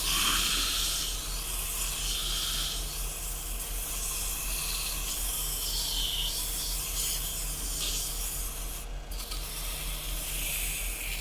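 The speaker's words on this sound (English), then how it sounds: "just finishing sanding with 600" Steady, soft scratchy rubbing of 600-grit sandpaper on turned spalted beech wood, a continuous close hiss with slight back-and-forth variation and no talking.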